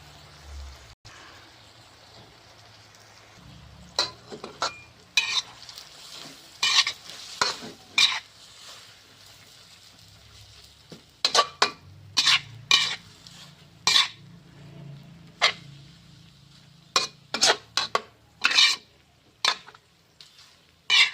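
Glass noodles and suki sauce being stir-fried in a pan for dry suki with tender pork, a steady sizzle broken by repeated sharp scraping and clanking strokes of a utensil, close and fairly loud, with no voices.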